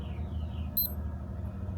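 An unbranded digital wristwatch resembling the Lasika WF 7005 gives a quick, quiet double beep of its alarm, close by against low background hiss.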